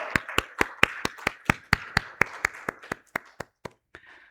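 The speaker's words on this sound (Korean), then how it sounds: "우리 한번 환영의 박수 하시겠습니다" At a Korean church Sunday service, a congregation claps in welcome with about eighteen sharp, evenly spaced claps in unison that gradually soften and thin out at the end, with no voices over them.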